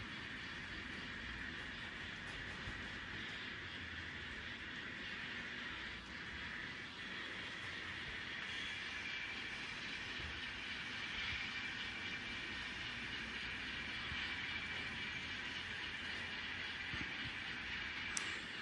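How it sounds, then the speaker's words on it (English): A model BNSF manifest freight train rolls west across a model railroad layout, giving a steady, continuous rumble and hiss at moderate level throughout, with no talking. "this is a BNSF manifest heading west towards San Bernardino Yard."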